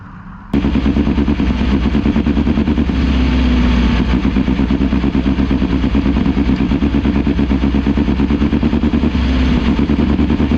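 USAC midget race cars with four-cylinder engines rumble around Merced Speedway on a night parade lap, a loud, sustained, close engine drone that cuts in abruptly and holds steady throughout.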